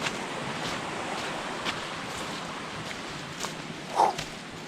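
Footsteps splash through a shallow stream in trail runners on a hiking trail, a steady series of soft watery steps under broad rushing water noise, with one sharper splash near the end.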